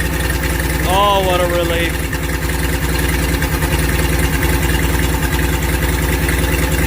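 A freshly rebuilt International Loadstar 1600 truck engine idles steadily with a loud, even rumbling drone, while someone speaks briefly over it.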